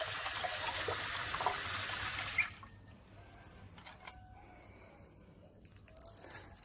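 Tap water gushing loudly into a kitchen sink while something is rinsed under it, then cut off abruptly, leaving quieter clinks and handling sounds.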